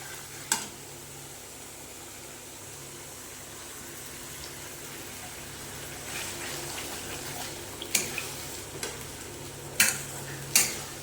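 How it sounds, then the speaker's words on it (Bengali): A cashew and poppy seed paste is sautéed for catla fish rezala: a quiet, continuous sizzle, with a few sharp spoon scrapes and clicks clustering toward the end. "এই কাজু পোস্ত বাটা দিয়েও ভালো করে কষে নেবে"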